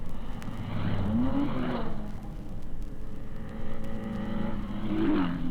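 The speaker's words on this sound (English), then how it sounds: "But the Fangio Ferrari and the Musso Ferrari are both sounding very healthy." Ferrari sports racing cars, including Fangio's and Musso's, roar past at the 1956 Sebring endurance race, engines droning loud and steady with rising pitch swells as they pass, a continuous racetrack din with no clear talk.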